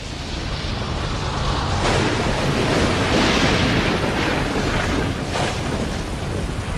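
Steady heavy rainfall with rolling thunder, a dense continuous roar that swells and rumbles throughout, loud and close with no voices.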